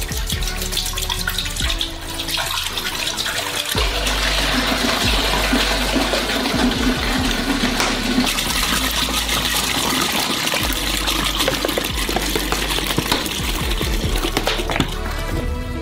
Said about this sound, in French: On ouvre les bouteilles et on verse dans un grand pot.